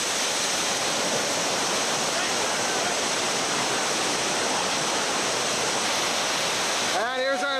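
White water rapids on a river roar as a constant, loud wash of rushing water. Near the end a brief voice-like warble cuts through.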